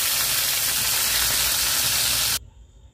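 Fish frying with salt in a hot kadai, a loud steady broadband sizzle and hiss close up that cuts off sharply near the end, leaving a faint quiet hum.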